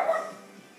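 A single short dog bark, fairly close and clear, fading quickly into a quiet room.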